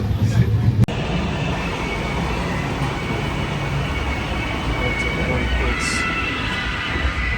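An Indian Railways train on the Kanniyakumari to Delhi run rolls along near the Andhra border, a steady, loud rumble and rattle of wheels and carriage throughout, with a sharp knock near the start.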